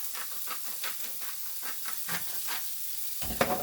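Potato wedges fry in oil in a pan, giving a steady close sizzle and hiss with faint crackles and pops throughout and a brief louder clatter near the end, with no voices.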